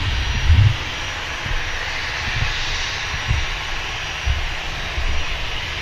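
A small Fly Wales Beechcraft, almost 50 years old, touches down at Manchester Airport, giving a steady broadband engine and airflow roar with soft low thumps, heard from a distance with no talk.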